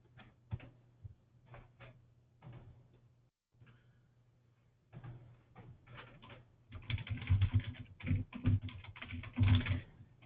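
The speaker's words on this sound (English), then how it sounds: "You see Nancy typing in there" Someone types on a computer keyboard, irregular bursts of close clicking keystrokes that grow denser and louder toward the end, over a faint background hum.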